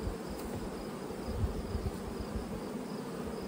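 Honeybees hum and buzz steadily around an open hive as a brood frame is pulled out, forming a soft, continuous drone with no voices.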